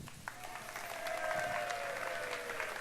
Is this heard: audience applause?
yes